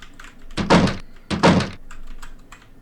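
Two heavy thuds about a second apart, loud and close, from a locked door being tried in a horror RPG video game, with nothing else over them.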